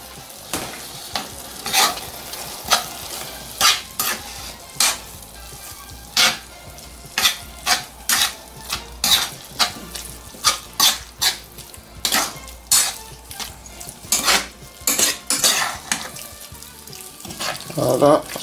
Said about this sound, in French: J'ai mis mon fromage et je vais touiller aussi.